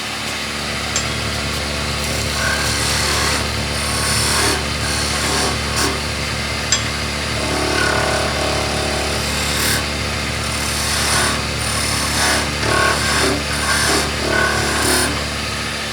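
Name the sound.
woodturning on a lathe, tidying with a skew chisel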